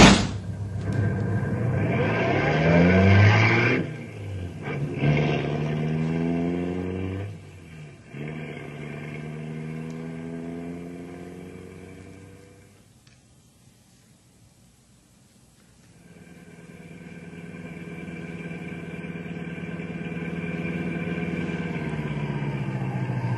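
A car in an old radio drama starts up and pulls away, its engine revving through gear changes and fading into silence before another steady engine drone rises and holds, with no talking.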